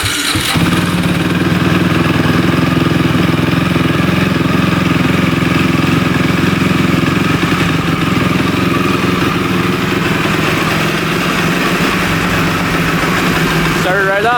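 Cannondale 440 race quad firing up at the push of the start button and settling into a steady, loud, close idle that holds continuously throughout.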